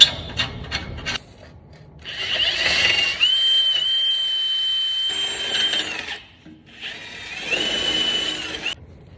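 Hand tools scrape and grind against a rusted, cooked muffler section under a 4WD, in bursts of rough rubbing and rasping with a thin metallic whine, broken by short pauses and close to the listener.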